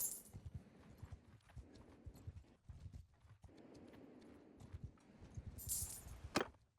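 Horses' hooves clip-clop in the game Mount & Blade II: Bannerlord, a faint rapid rhythm of low hoof thuds as several horses move along, ending with a brief bright jingle.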